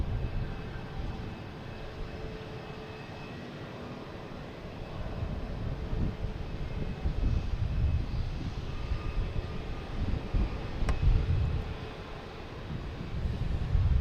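Jet airliner passing at Boston Logan Airport, a broad steady engine roar that swells gradually toward the end, heard from the ground with some wind buffeting the microphone and no talking.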